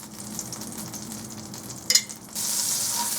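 Garlic oil, about a tablespoon, hits a hot pan with a sudden burst of sizzling that settles into a steady loud fry, preceded by a brief clatter of stirring.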